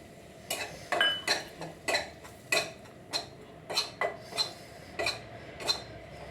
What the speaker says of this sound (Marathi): त्या तुपावर मी एक चमचा बेसन तुपावरती एक चमचा बेसन भाजून घेणार